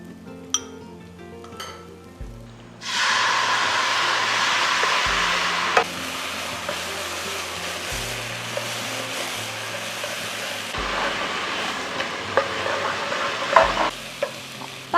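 Vegetarian kung pao with fried king oyster mushroom, tofu and peppers stir-fried over high heat in a wok, quiet clinks before a sudden loud roaring sizzle with steady stirring, backed by faint music.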